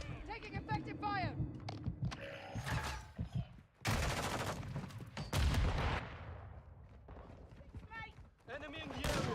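Rapid gunfire bursts and explosions in Call of Duty multiplayer, loud and dense, with in-game voice callouts over the shooting and brief lulls between volleys.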